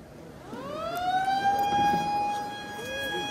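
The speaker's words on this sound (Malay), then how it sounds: "Hanya menunggu siren saja dibunyikan." A siren rises and holds a wailing tone at an outdoor fishing pond competition, moderately distant, then sweeps down again, with faint background noise and no talk.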